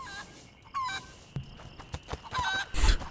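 Chickens cluck and squawk in short bursts over a faint steady hum in the video game A Plague Tale: Innocence, with a louder flurry near the end.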